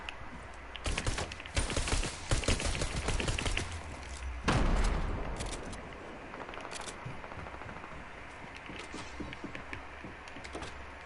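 Rapid bursts of pistol gunfire in the video game Fortnite, dense crackling shots close up, then a heavy boom and a fading, rumbling game soundscape, with no talking.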